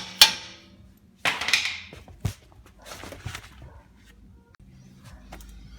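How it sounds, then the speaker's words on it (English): A hammer taps on a suspension part of a 2006 Toyota Sequoia during wheel bearing work, giving a few sharp metallic knocks close by, spaced irregularly, with quieter shuffling between them. "And now you'll take a hammer and tap this a little bit."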